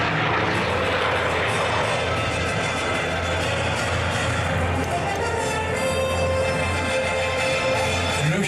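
A Hawker Sea Fury propeller fighter flies at the La Ferté-Alais airshow, its engine a steady, loud droning roar that shifts slightly as it passes, with a voice talking over it.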